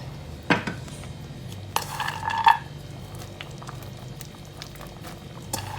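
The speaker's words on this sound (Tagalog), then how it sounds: "Kumukulo na po ito." Turkey soup bubbling at a boil in a pot, with a few clinks of metal against cookware near the start, then a steady quiet simmer.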